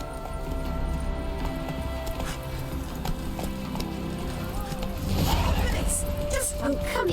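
Roach the horse running in The Witcher 3, with rapid rhythmic hoofbeats over a continuous game ambience and a brief whinny-like sound near the end, with a voice speaking over it.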